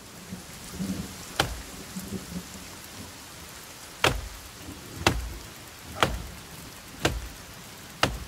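A video game thunderstorm in a forest: steady rain on surfaces with sharp cracks of thunder or lightning striking about every second, louder strikes recurring near the end, no talking.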